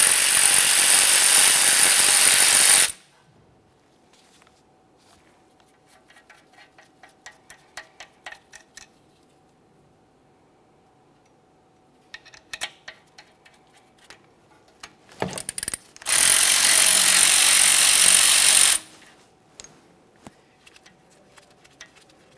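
A power ratchet or impact tool on a 17mm socket works the brake caliper mounting bolts of a 2017-2023 GMC Acadia, loud whirring bursts at the start and near the end, separated by quiet clicks and small metallic taps.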